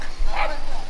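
Small dog barking near a boat work area where a bike passes, a short yappy bark or two rising over steady background noise.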